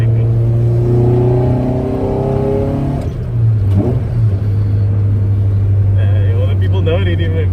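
A car engine with a BP swap and individual throttle bodies revs up and holds a deep, steady growl close by, rising in pitch near the end, while people talk over it.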